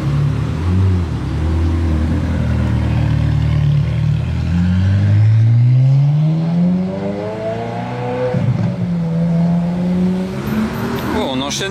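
A yellow Ferrari F8 Spider supercar drives past on a Monaco street, its engine note rising and falling as it nears and goes by, loud and close, with a voice talking over it.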